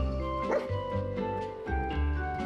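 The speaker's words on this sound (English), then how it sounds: "Don't you look at me, demon dog!" Growling barks from a demon dog creature in Fallout 4, several rough yelps in a row over a steady game music bed, close and fairly loud.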